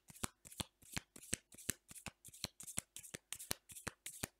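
Oracle message cards are shuffled by hand during a card reading, giving a regular series of about a dozen crisp riffling bursts, close and fairly quiet, with no talk over them.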